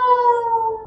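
A fire truck siren sounds as a single loud, steady wailing tone that slowly falls in pitch, brief and clear with no talking.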